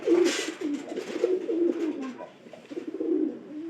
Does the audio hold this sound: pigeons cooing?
yes